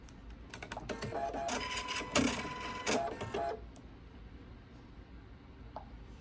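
A sewing machine running a straight stitch at 2.0 stitch length for machine binding gives about three seconds of close, busy mechanical whirring and clatter, then stops, leaving quiet room noise.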